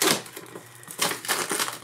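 Plastic clips crack and snap as a WD Easystore external drive's enclosure is pried open by hand, a couple of close, sharp clicking bursts over a second or two.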